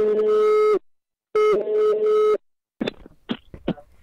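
Telephone ringing tone on an outgoing call, two long steady buzzy rings separated by a pause, loud and close, followed by a brief burst of voice-like sounds.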